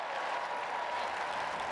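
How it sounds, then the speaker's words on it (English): A crowd at a masters dog agility championship cheers and applauds in a continuous dense wash of clapping and voices, steady in level and heard from a distance. "Crowd is just cheering him on there"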